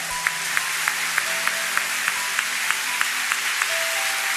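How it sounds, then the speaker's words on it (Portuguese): Congregation clapping during a church sermon, steady rhythmic claps at a regular beat over a constant background hum, moderately loud and without talk. "Uma salva de palmas ao nosso Deus, uma salva de palmas."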